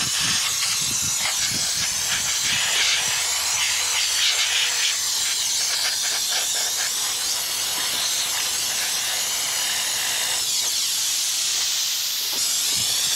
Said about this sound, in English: Now I'm going to blow the actual case completely clear with air.